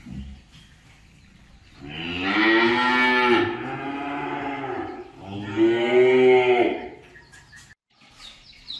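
Cattle at a cattle sale give two long, loud, close moos, the second following a brief pause, with faint background noise around them.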